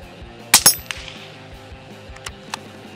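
Rifle shots from a Tikka T1X UPR: two sharp, loud cracks close together near the start, then a few fainter distant pops or clinks over quiet background.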